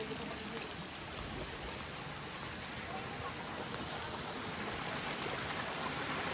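Water gushes strongly from a spring at Capilay Spring Park in Siquijor, a dense continuous rushing roar, steady and close, with no pause.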